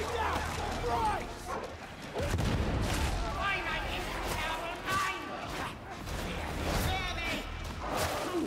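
A grenade blast amid combat in Warhammer 40,000: Darktide, with heavy gunfire, dull booms and shouting voices layered in a loud, chaotic mix.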